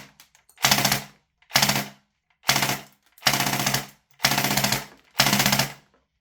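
A VFC M249 gas blowback airsoft rifle fires six loud, rapid bursts, each a rattling chatter separated by short silences, while its BBs misfeed; close and dry, with no talking.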